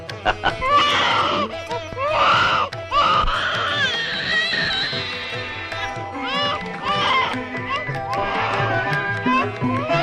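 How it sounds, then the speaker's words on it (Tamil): A baby cries in loud, wavering wails that rise and fall in repeated bursts, mixed with other voices and background sound. "நான் வேலை கவனத்தில் குழந்தை அழுவதை கவனிக்காமல் இருந்து விட்டேன்"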